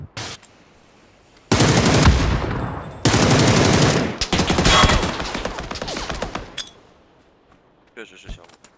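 Video-game gunfire in long dense automatic bursts, loud and close, broken by short pauses, with excited players shouting over it before it fades to quiet.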